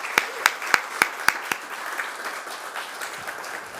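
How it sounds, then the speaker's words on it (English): Audience applause at a startup demo day, opening with about six sharp, evenly spaced close claps from one person before a lighter, scattered clapping from the room carries on more softly. "So a big round of applause for all of the hard work."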